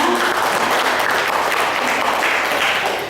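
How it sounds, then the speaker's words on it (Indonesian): Applause from an audience at a hotel integrity seminar: a dense, continuous wash of many hands clapping, loud and steady, easing slightly at the end. "Tepuk tangan semuanya."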